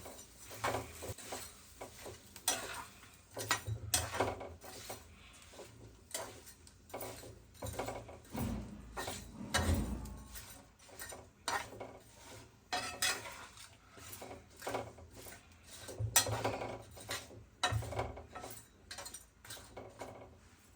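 Hill gooseberries and jaggery are stirred in a pot for a sweet, making a steady run of close, rhythmic scraping and clinking of a spoon against the metal.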